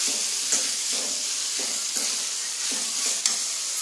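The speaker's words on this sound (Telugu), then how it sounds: "ఇప్పుడు వాటర్ పోసుకొని 5 నిమిషాలు" A sizzling chicken curry in a pan crackles and hisses steadily with a rhythmic stirring scrape repeating about twice a second, close and loud, with no talking.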